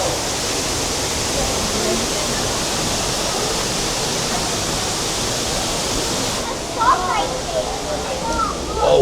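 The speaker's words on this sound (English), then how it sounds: "Walking past a nice waterfall." A waterfall at Omaha's Henry Doorly Zoo gives a steady, loud rushing hiss that fills the scene. Near the end people talk briefly over it.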